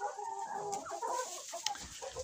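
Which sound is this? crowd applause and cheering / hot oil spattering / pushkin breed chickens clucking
pushkin breed chickens clucking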